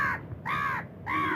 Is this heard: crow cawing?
yes